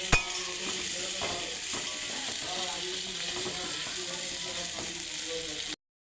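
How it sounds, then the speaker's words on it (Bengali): Sliced ridge gourd (chichinga) fries slowly in a pan over low gas, giving a steady soft sizzle with faint clicks of stirring, ending abruptly. "গ্যাসটাকে আস্তে দিয়ে আমি ভালো করে আস্তে আস্তে ভাজা করে নেব"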